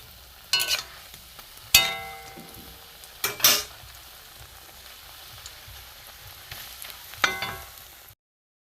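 Bread cubes frying three at a time in a small wok, a low steady sizzle with a few sharp clinks and stirring scrapes at intervals, fairly close, no talk.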